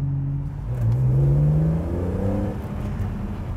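A manual sports car engine revs up with a clean exhaust note, its pitch rising smoothly and then easing back down, steady and fairly close, with no voices.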